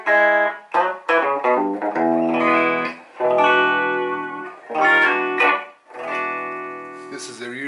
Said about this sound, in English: Second input, bright channel.